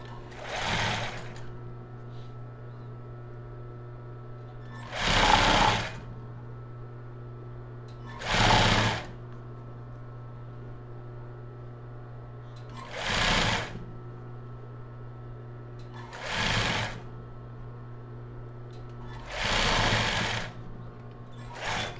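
Sewing machine stitching elastic bias binding over an overlock-finished edge on a crop top without cups, heard in five or six short, loud bursts separated by pauses, over a steady low hum.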